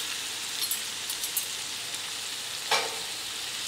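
Beef with garam masala and cumin powder frying in a pan for Afghani pulao, a steady close hiss of sizzling oil with a few light stirring scrapes and one brief sharper crackle.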